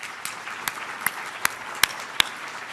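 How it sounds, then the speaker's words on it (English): A few scattered, separate claps ring out at a health tech anniversary gathering, about six sharp hand claps spaced irregularly over a quiet room rather than a full ovation. "So let's give everyone a hand of applause."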